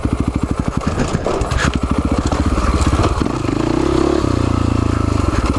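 A Husaberg FX450 dirt bike working along a steep technical trail, its engine chugging in rapid low pulses, then holding a steadier, rising drone as the rider pushes on, close and loud throughout.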